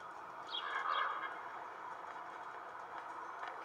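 Faint bird chirps in the video game Little Kitty Big City over a steady ambient hum, a few brief tweets early on, then just the constant background drone.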